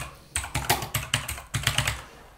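Steady typing on a computer keyboard while writing an SQL query in SQLite, a close run of crisp keystrokes in uneven quick bursts with no talk over it.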